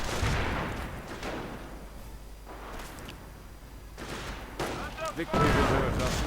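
A mortar half-track fires in a Company of Heroes battle, with dull booming shots and scattered gunfire amid battlefield rumble. A commentator talks over the sounds throughout.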